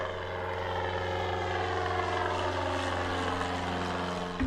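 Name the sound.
light aircraft flying near a residential area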